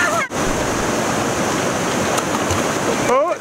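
A raging river rushes in a steady, loud roar of water that fills the whole stretch without pause, with faint high squeaky sounds at the start and end.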